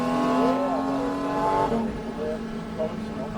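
A race car at Xtreme Experience holds a steady engine note up close, then its pitch drops sharply as it shifts, while someone talks over the motor.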